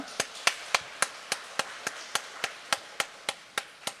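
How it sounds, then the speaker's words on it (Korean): A congregation at a Sunday morning worship service claps in tight unison, about fifteen sharp, evenly spaced claps in a steady rhythm over four seconds, with no talking. "하나님께 영광의 박수 올리겠습니다."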